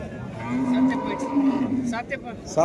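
A water buffalo gives a long, low moo close by at a buffalo market in Loha, Nanded, followed by faint background chatter and clatter.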